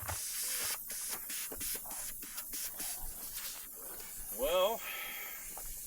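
Air hisses from a leaking tire on an off-road Ford Bronco during a desert trip between Reno and Las Vegas, a steady broadband spray rising under speech, with clicks and shuffling nearby.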